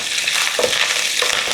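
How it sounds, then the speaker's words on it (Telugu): Crushed ginger and tempering spices fry in hot oil for a stuffed brinjal curry, giving a steady close sizzle and crackle with a couple of brief stirring scrapes, no voices. "కొంచెం ఇది వేగనివ్వండి."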